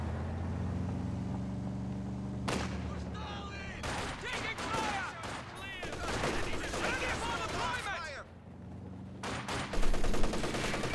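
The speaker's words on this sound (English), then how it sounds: "MG in the building, making sure he suppresses those helmet engineers." Machine gun fire and other combat in the real-time strategy game Company of Heroes 2, with an MG firing from a building to suppress engineers; bursts of rapid gunfire come in several loud waves, mixed with vehicle engine rumble and an ongoing battle.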